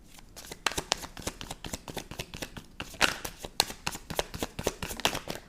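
A deck of playing cards is shuffled repeatedly up close, giving rapid crisp riffling flicks that run continuously and grow a little louder toward the end, with no speech.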